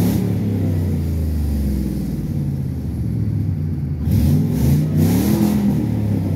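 A 1997 Ford F150 truck engine revs up and down at close range, a rumbling mid-pitched roar that swells and surges, with no talk over it.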